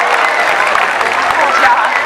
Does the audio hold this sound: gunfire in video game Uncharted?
no